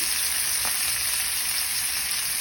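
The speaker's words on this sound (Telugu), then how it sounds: "అవి కూడా ఇందులో వేసి ఫ్రై చేసుకోవాలి. తర్వాత కొంచెం కరివేపాకు వేసుకోవాలి." Dried red chillies and curry leaves fry in a pan, giving a constant, dense hiss of sizzling oil with one brief stirring scrape.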